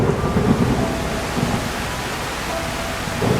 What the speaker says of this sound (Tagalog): Habang tumitindi yung unos